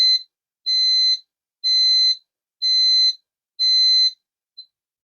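A sari-sari store alarm sensor sounds in loud, piercing electronic beeps, four long evenly spaced tones about a second apart followed by a brief final chirp, alone against silence.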